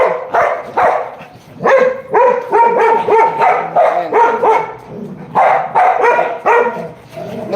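Several dogs bark and yip loudly and close, in quick overlapping bursts with short pauses between them.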